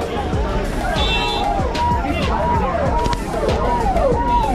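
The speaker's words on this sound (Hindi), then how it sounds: "गाइस देख लो कैसे भीड़ है" A roadside crowd chatters and murmurs around a political convoy of Toyota Fortuner SUVs with police escort vehicles, a steady dense babble with car sounds faintly beneath and a voice talking close by.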